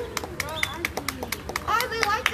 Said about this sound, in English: why don't you guys give him a round of applause?